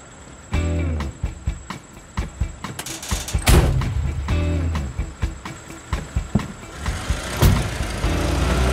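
A car pulling away from a parking spot, its engine revving in repeated pulses of acceleration and gear changes, close and fairly loud, with no voices.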